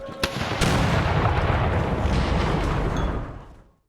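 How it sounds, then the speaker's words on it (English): Cannon fire in the strategy game Empire: Total War, a loud sustained roar of overlapping artillery blasts rumbling for several seconds before tailing off, with a sharp crack near the start. "the sounds of the cannon fire itself"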